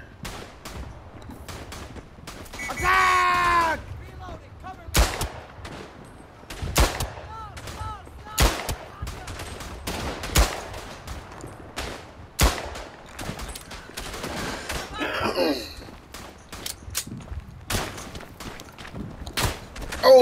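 Gunfire in the video game Verdun: sharp rifle cracks and short bursts at irregular intervals, some close and loud, others distant, with a brief shout and whistling sounds in between.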